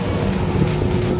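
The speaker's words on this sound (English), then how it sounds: "Okay, well, we started this fan up here." A Liebert HVAC condenser fan motor spins up, bypassing its controller, giving a steady close-up whirring drone with a low tonal hum throughout.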